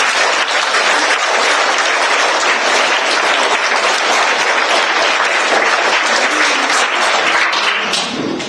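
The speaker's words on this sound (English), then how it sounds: "Can we give him a big round of applause" A big round of applause from an audience at a book event, sustained dense clapping that fills the whole stretch at full strength before easing off at the very end.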